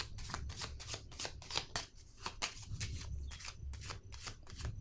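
Tarot cards being shuffled by hand, a steady, fairly quiet riffle of repeated flicking card sounds with no speech.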